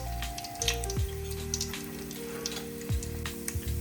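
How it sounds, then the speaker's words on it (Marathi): Whole spices sizzling in oil for chicken biryani give a moderate, continuous crackle with faint spatter, accompanied by a few low tonal hums in the background. "यामध्ये ॲड करूया हा खडा मसाला"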